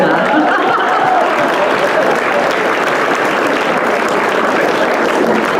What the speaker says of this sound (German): wer meint, das ist ein Applaus, wer der klatscht